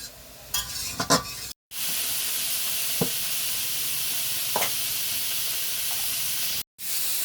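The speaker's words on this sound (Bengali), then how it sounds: "শাকটা ভাজা ভাজা করে নেব।" Bottle gourd leaves stirred and fried in a pan give a close, steady hiss of sizzling, punctuated by a few scraping stirs and two brief dropouts.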